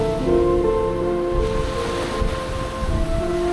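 Ocean waves wash onto the sandy beach at Pantai Torohudan, a steady rushing surf with a soft swell and retreat, mixed with light wind noise and no voices.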